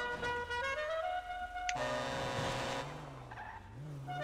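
A car in GTA 5 revs hard and accelerates, then tires squeal in a long skid as the engine note rises and falls, loud and close with no talk over it.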